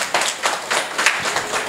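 A crowd at an outdoor aid-distribution gathering in a refugee camp claps in short uneven bursts, moderately loud and fairly close, without voices.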